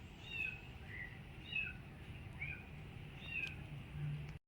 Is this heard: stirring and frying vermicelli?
no